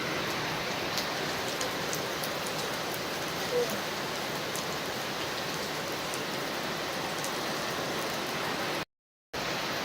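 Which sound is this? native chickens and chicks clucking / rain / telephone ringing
rain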